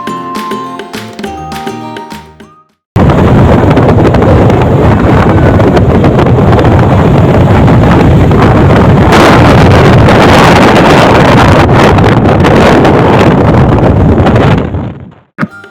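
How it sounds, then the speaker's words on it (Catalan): Strong wind roars and buffets the microphone at a volcanic crater in Iceland, loud and continuous for most of the stretch after a brief opening of other sound and a moment of silence. "ja ens havien advertit que feia un vent horrorós"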